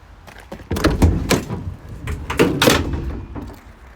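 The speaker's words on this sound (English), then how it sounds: "The door operation is all good, it's locked into place there with the catch." The emergency door of a used bus swings shut and its catch locks into place, giving a series of close, loud metallic clunks and rattles over a few seconds.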